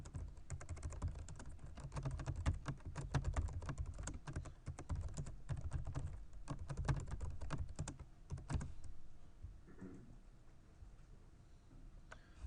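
Rapid, close keystrokes on a computer keyboard as code is written, a dense run of clicks for about nine seconds before the typing tapers off into quiet.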